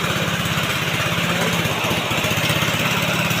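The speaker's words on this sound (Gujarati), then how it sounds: "મશીન ચાલુ કરી દીધું છે દવા છાંટવાનું મશીન છે" The small engine of a motorized pesticide sprayer runs steadily and loudly throughout, a continuous buzzing drone with rapid pulsing, no voices.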